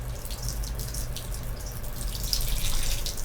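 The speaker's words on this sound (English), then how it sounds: "Gotta use my big water bottle here. This needs to stay a little extra moist on one side." Water from a big water bottle is poured into a terrarium to moisten one side, giving a soft, steady trickle and splashing that runs continuously and grows slightly louder toward the end.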